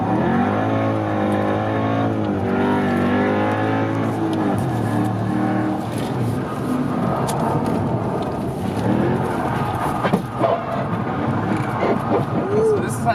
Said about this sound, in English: this is a demo of how to spin out in an AMG